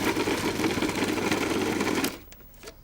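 Food processor with sharp blades whirring loudly as it chops fish for pâté, a steady dense buzz for about two seconds before the motor cuts off and leaves a quieter rattle.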